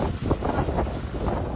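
Strong typhoon wind roars against the microphone with a rushing wash of surf behind it on the coast of Dimasalang, Masbate, loud and continuous through a short, unbroken gust.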